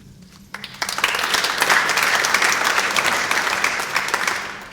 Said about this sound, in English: So an extra applause, please.